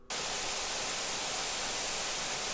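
A test signal from the test record supplied with the R1000 amplifier, played for its phono optimizer: a loud, steady broadband hiss that starts abruptly and holds without change.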